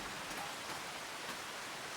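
Rain in Farming Simulator 25, a steady soft hiss of falling drops, even and continuous without any voices.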